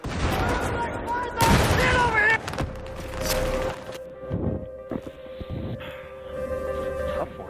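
Mortar explosions in a war video game land as heavy booms and cracks around the player, mixed with gunfire and a player's voice talking over the chaos.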